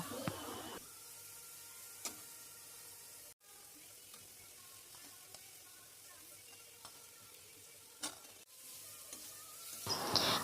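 Potatoes frying in a cooked-down spice paste for a rohu fish curry, a faint steady sizzle with occasional stirring scrapes and soft clinks of the spoon against the pan.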